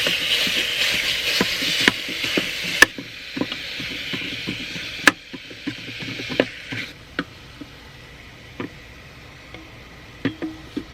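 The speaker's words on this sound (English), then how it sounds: "As the beef and onions are browning" Ground beef and onions browning in an Instant Pot inside a van, a soft steady sizzle broken by frequent sharp clicks and taps of a spoon stirring against the pot, fairly close and quiet.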